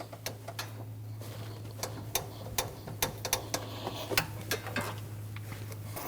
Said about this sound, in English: you want to torque that bolt down to 45 foot-pounds